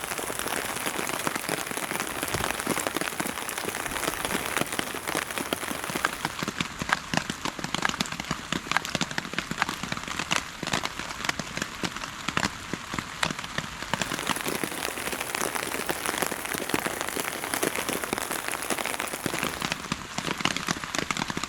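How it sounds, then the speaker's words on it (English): Rain falling steadily on a camping tarp during a yellow weather warning, a dense continuous patter of drops close overhead, loud and unbroken with no talking. "It's very peaceful sitting under the tarp, just listening to the rain"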